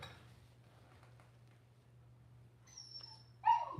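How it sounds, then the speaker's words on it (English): A dog whimpers briefly indoors, a faint high whine near the end after a quiet stretch with light clinks of dishes or utensils in the background. "I think my dog wants to go out."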